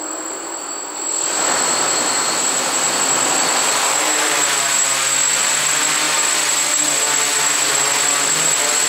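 A DJI Naza multirotor drone flies in attitude mode, its motors rising from a quieter start into a loud, steady high whine that holds to the end, with no talking.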